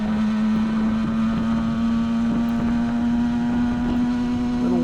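A 1967 Yamaha YL1-E Twin Jet 100 two-stroke motorcycle runs at a steady, loud drone with constant engine tone, with wind noise from riding.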